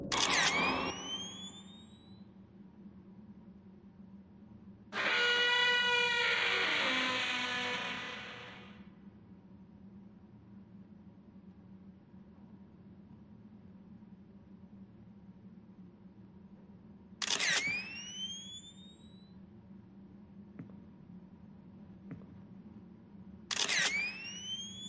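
A camera shutter clicks in a quiet room: one crisp release at the start, a longer burst of mechanical noise a few seconds later, then two more isolated clicks spaced well apart.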